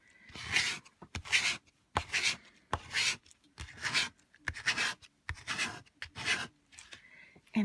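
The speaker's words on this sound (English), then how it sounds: "I take a scraper tool and I'm going to go over the" A scraper tool is pushed hard across a craft cutting mat in a series of about a dozen close, harsh rasping strokes, each separated by a brief pause, with no talking.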